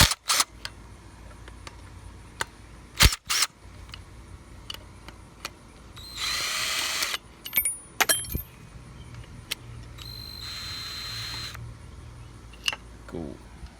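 Removing the engine belt tensioner on a BMW E46 being readied for a turbo build brings sparse metallic clinks and taps, then two short ratcheting bursts, close up and fairly quiet with no talk.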